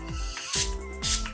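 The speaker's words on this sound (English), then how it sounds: "I'm gonna set all of that with the Urban Decay All Nighter Setting Spray" Two quick spritzes of Urban Decay All Nighter setting spray misted over a made-up face, sharp close hissing bursts about half a second apart over soft background music.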